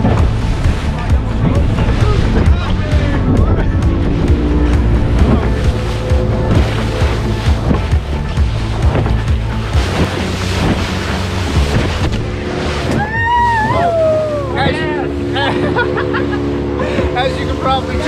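A small boat in wild, rough seas off Las Galeras in the Dominican Republic roars along under a loud engine, with wind buffeting the microphone and water slapping the hull as a voice talks over it.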